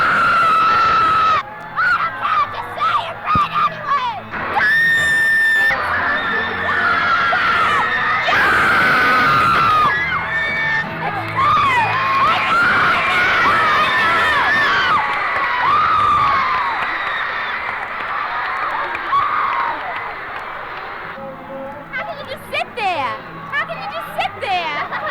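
A crowd of fans shrieking and screaming at a concert at Shea Stadium, a loud, continuous wall of high-pitched cries and cheers, with people talking over it at times.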